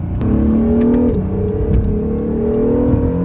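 A 2017 Acura NSX accelerating hard under throttle, its engine note climbing in pitch and briefly shifting, loud and close from inside the car with a constant whirring drone and no talk.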